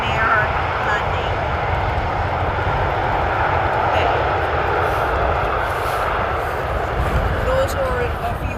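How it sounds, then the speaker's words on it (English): A Ryanair Boeing 737 from Malaga lands on the Polderbaan runway at Amsterdam Schiphol, its engines a loud, steady, broadband roar that holds without a break. "there you have Ryanair landing"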